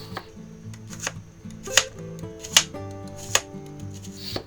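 A sharp knife slices a grilled ham, cheese and tomato sandwich into strips on a board, giving a series of crisp crunchy cuts and taps at irregular intervals over faint background hum.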